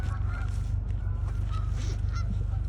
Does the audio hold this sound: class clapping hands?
no